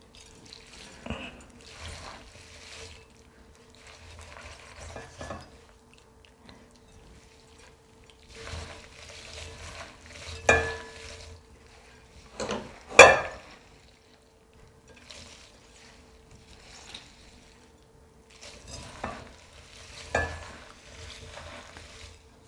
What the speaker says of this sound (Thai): เอามาคลุกกับแป้งทอดกรอบแล้วเลยจ้ะ